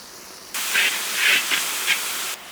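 Vegetables sauteing in a pan on high flame, a sudden loud hiss of sizzling that starts abruptly, swells in a few bursts as they are tossed, then cuts off, with no talking.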